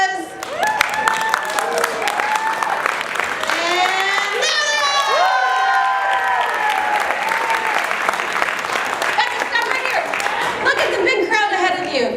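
A high school comedy improv audience breaks into loud applause mixed with shouts, whoops and cheering voices, a sustained wall of clapping with excited yells rising over it.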